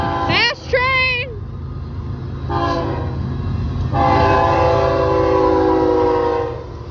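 A military freight train rolls past close by with a loud, continuous rumble and clatter, its horn sounding in short blasts and then one long sustained blast, while a voice talks briefly over it.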